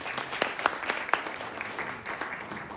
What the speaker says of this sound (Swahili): Si wapigie hawa makofi.